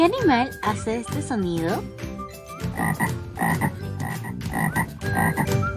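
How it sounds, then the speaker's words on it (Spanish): A toad croaks in a rhythmic run of loud, raspy pulses, heard after a voice asks a question in Spanish. "Y por último tenemos a nuestro amigo el sapo."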